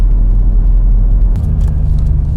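A Toyota 4Runner, fresh from a clutch slave cylinder replacement, drives at speed with a loud, steady low road rumble and engine drone, alone without talk.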